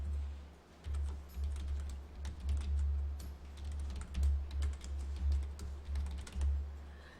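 Fingers typing on a computer keyboard, a steady run of close, light key clicks in uneven bursts over a low background hum.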